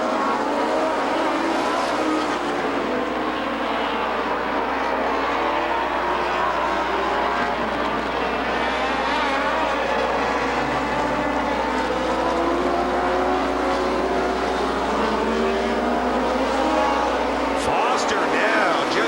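Stock cars race around Rockford Speedway in a steady, dense engine roar throughout, with a commentator talking over the continuous noise of the pack.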